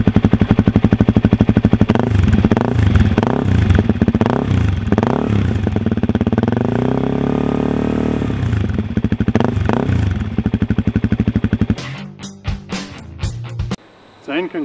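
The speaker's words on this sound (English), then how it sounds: "All right, we'll start it up." A Suzuki DRZ400E with an aftermarket exhaust runs close by, idling with a rapid staccato beat and then revving in repeated rising and falling blips before cutting off, followed by a few scrapes and clanks.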